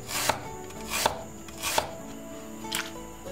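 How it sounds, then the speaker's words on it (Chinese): A knife slices peeled nine-hole lotus root into thin slices, four crisp chops spaced about a second apart on a board, close and clear with no talk. "然后把削皮洗干净的莲菜切成薄片。"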